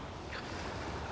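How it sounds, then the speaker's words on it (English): Waves and wind at Gasworks Park in Seattle, heard as a steady, broad rush of surf with wind buffeting the microphone and no voices. "you're getting some audio verite, if you will, of the waves and the wind and things like that"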